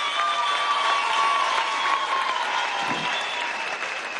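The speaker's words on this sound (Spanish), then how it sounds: "Un aplauso para esta muchacha falconiana." Audience applause at a Venezuelan government event where teachers receive their posts, a loud sustained crowd clapping with some cheering mixed in, steady for the whole span.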